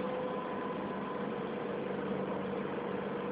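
A 1995 Freightliner FLB truck with a Cummins engine idling in Chile: a steady, even mechanical hum with a low throb and faint tonal whine, heard fairly quietly and without interruption.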